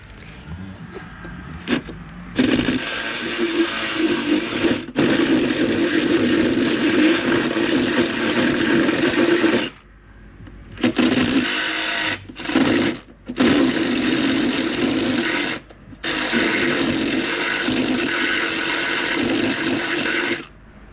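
A power drill bores holes while fitting a strut tower brace to a 2021 Dodge Charger Scat Pack, whining in long loud bursts with abrupt stops and short restarts in between.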